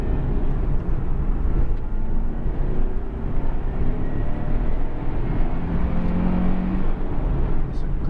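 A 2012 Nissan 370Z GT Edition's 3.7-litre V6 pulling on the move, a steady low engine drone with road and wind roar filling the cabin, a voice faintly underneath.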